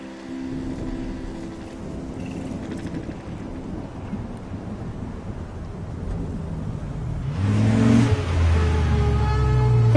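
A car in the video game Life is Strange drives along with a low engine rumble and road noise, swelling louder near the end as the engine revs, with no talking.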